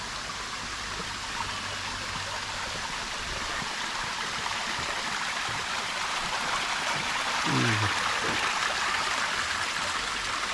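Steady broadband rush of flowing water, a mountain stream at a remote village beside a forest, running continuously and fairly close, with a brief low knock partway through.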